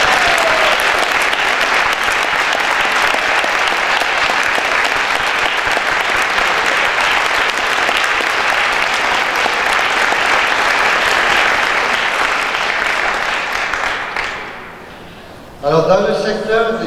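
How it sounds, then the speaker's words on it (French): Loud, sustained audience applause at an award ceremony for best theses, steady for about fourteen seconds before fading, then a voice begins speaking. "On peut applaudir."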